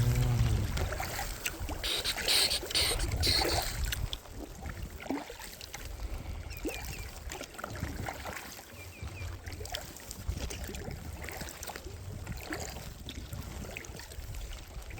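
Kayak paddling on Lake Vänern, Sweden's largest lake: steady water swishing and dripping around the hull with light wind, loudest at the start, then a continuous close, moderate wash of paddle strokes and lapping.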